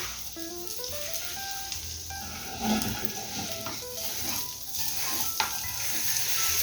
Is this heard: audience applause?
no